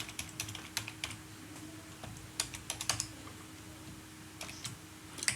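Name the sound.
typing a password on a computer keyboard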